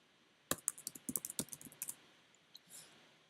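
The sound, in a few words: typing a password on a computer keyboard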